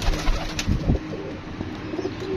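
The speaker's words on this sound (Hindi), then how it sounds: "ये कबूतर जोड़े लगे हुए हैं यहाँ पे" Breeder pigeons in rooftop cages coo in soft, throaty rolling bursts, several close calls in the first second followed by quieter cooing in the background.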